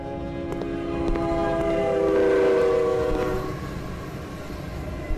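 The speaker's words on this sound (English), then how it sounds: "What's the deal with the ghost train?" A ghost train passes in the horror game A Dark Place: a sustained, harmonic horn-like whistle rises and swells over rumbling, clattering rail noise, then fades as the train moves off.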